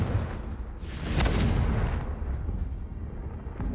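A Confringo blasting spell goes off in a Harry Potter video game, a booming blast that swells to a peak around a second in, then rumbles and fades out gradually with no voices.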